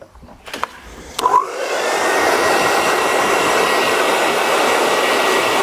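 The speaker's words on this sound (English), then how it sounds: "Now I'm just going to blast it off with a hairdryer, get rid of all that loose hair" A hair dryer switches on after a few brief knocks and blows loose hair off a short men's haircut with a loud, even whooshing roar that continues to the end.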